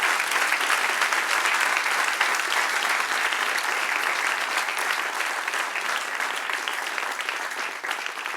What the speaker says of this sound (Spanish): Darle un aplauso al que reina y vive para siempre.